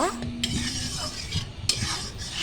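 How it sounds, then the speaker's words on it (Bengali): Sugar syrup being stirred in a pan while it boils down, with steady scraping strokes and a soft bubbling sizzle underneath, close and clear with no one speaking. "এখন আমি এটাকে ভালো করে নেড়ে চেড়ে শুকিয়ে একটা শিরা করে নেব"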